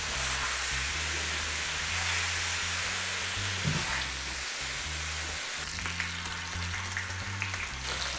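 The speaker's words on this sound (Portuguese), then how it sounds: "De tal forma que todos os pedaços estivessem na gordura para fritar" Pieces of crab fry in hot fat, a steady close sizzle that stays dense and continuous throughout with no talking.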